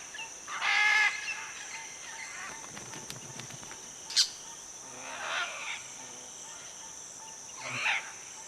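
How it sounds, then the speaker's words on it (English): Crimson-fronted parakeets calling from an almendro tree near nesting macaws: scattered harsh squawking bursts, a louder one early, then later calls spaced apart over a steady insect-like hiss, moderately near with no talk. "A pair of crimson-fronted parakeets are setting up home next door to the macaws."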